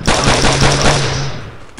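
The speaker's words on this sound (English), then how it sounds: "Hear gunshots." Loud, close automatic gunfire from the video game Call of Duty 4 rattles in a rapid continuous burst before cutting off.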